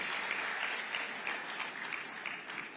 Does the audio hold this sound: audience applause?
yes